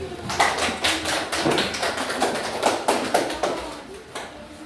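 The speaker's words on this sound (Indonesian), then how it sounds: "Bisa diberikan aplaus." Applause from a classroom audience after a group presentation, a steady patter of many hands clapping at moderate loudness for several seconds, then gradually thinning out.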